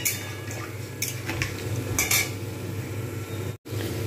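A metal spatula mixes a cauliflower paturi mixture, giving quiet scrapes and light clinks over a low, steady background hum, with a couple of brighter scraping strokes.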